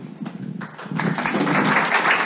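Applause from a church gathering's audience welcoming a speaker, starting thin and scattered, then swelling into steady, dense clapping that fills the room for a couple of seconds.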